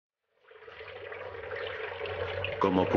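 Water pours and trickles through the holes of a homemade plastic-bottle turtle filter with no pump, a steady near flow that swells gradually and splashes more at the end.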